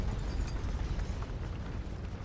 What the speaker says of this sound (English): that Michael Bay explosions